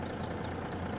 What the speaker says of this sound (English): Let me turn off the engine.